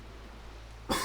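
A single sharp cough bursts out near the end after a stretch of low room noise, close and fairly loud, from someone who can't stop coughing.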